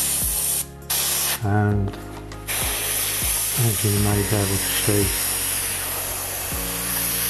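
A Badger 200 old-style airbrush sprays water in steady hissing bursts, close and loud, broken by short pauses and clicks of adjustment while someone talks over it.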